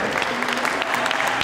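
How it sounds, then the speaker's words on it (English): A street audience at a busking guitar showdown in Los Angeles gives a brief burst of close, lively clapping, many hands patting quickly at an even volume. "Big round of applause for everybody"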